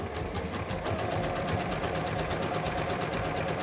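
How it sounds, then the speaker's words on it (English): Sewing machine stitching a flat felled seam, a continuous close, even mechanical whir with a fast rhythmic needle clatter that runs without pause. "I'm going to lock my stitching forward, backward, forward"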